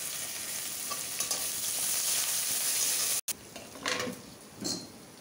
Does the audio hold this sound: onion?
yes